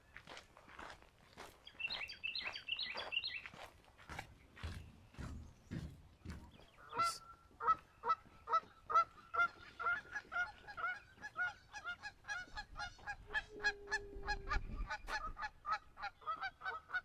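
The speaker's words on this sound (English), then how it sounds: "There's some geese out there." Geese honk in a long series of loud calls, some close and some farther off, with footsteps crunching along a path near the ocean at Cape May Point State Park, New Jersey.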